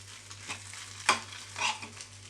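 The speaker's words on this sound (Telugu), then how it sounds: "చూడండి, బాగా ఇలా ఫ్రై చేసుకుందాము" Fish roe frying in a pan, a quiet background sizzle broken by a few sharp scraping stirs of the spatula, the loudest near the middle, with a low steady hum underneath.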